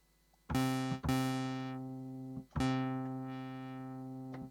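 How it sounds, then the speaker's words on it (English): Notes from a small AMYboard synthesizer held and retriggered three times, the tone brightening and darkening as the filter frequency sweeps; loud, no talking. "then I'll change the filter frequency. You should hear a difference hopefully."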